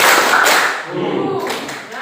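A classroom group claps a rhythmic counted pattern, a burst of loud sharp claps from many hands close by, fading into a brief softer patter.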